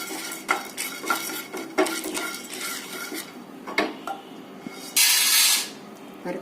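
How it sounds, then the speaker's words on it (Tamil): Fried gram (pottukadalai) is lightly roasted and stirred in a pan, with close, repeated spoon scrapes and clinks against the metal, followed near the end by a short, loud burst of hiss. "அதே மாதிரி பொட்டுக்கல்லையும் கொஞ்சம் லைட்டா கொஞ்சம் லேசா சூடாகிற மாதிரி வறுத்துக்கோங்க."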